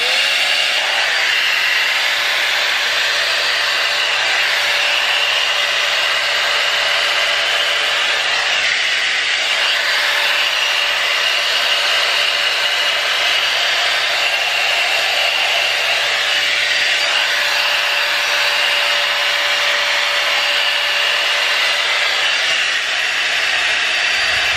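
A hair dryer-style airwrap dupe fitted with a round comb nozzle blows a steady, loud whirring airflow with a thin motor whine, running continuously without pause and with no talk.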